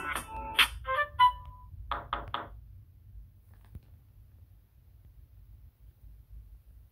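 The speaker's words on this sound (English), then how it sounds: "Now it's notification sound." A Samsung Galaxy Note 9 notification tone plays close and clear: a quick cluster of bright chiming notes, then three short clipped tones, before fading to a low steady hum with no talk.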